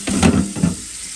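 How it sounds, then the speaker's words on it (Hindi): Water splashes and swishes over chickpeas being rinsed by hand in a bowl, a short burst of close, steady sloshing with no talking. "अब देखिए पानी अभी भी गंदा है, तो थोड़ा सा इसको और वॉश कर लेंगे।"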